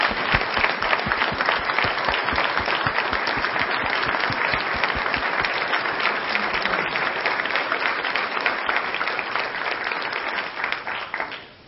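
Sustained applause from an audience honoring award winners at an evening awards ceremony, dense steady clapping throughout that fades slightly at the very end.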